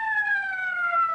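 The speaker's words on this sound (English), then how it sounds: "The quiet of the night is shattered by the shrilling of a police whistle and followed by the keening of a siren." A police siren in a radio drama keens in a steady, slowly falling wail, loud and close, alone without speech.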